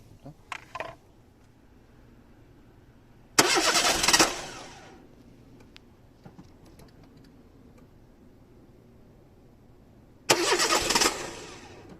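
A car with its LPG control unit removed cranks twice with no start, two loud bursts of starter whirring about three and seven seconds long, separated by a quiet stretch with faint clicks.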